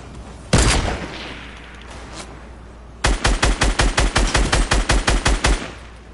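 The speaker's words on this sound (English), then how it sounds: "No, they were shooting at me. They were shooting at me." Gunfire from players shooting in the video game Fortnite: one loud blast, then after a pause a steady rapid string of about fourteen evenly spaced shots, close and punchy.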